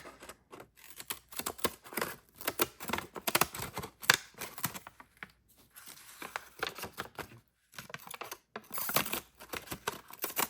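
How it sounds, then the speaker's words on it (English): Worn scissors snip and chop through homemade coffee-stained printing paper in quiet, irregular bursts of close crisp clicks and rustles, with short pauses between cuts. "Might need to get new scissors."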